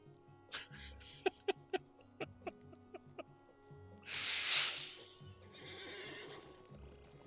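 A horse in Lord of the Rings Online clip-clops with a run of crisp hoof steps, then lets out a loud whinny followed by a softer snort, all close in a game setting.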